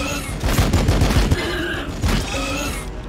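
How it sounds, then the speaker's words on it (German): Inceptors in the Warhammer 40,000 strategy game Battlesector unload a dense gunfire volley, a rapid, loud fusillade of overlapping shots with booming impacts that runs through the whole stretch. "Wow, sie haben echt eine Menge Schüsse,"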